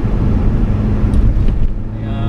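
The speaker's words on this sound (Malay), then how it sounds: "Muffler belakang tu saya guna Remus. Bunyi pun okey lah, taklah apa-apa kuat sangat." Steady low exhaust drone from a BMW E30 fitted with a Remus rear muffler and an E39 M Sport midbox, a continuous rumble throughout with a faint voice or rustle mixed in.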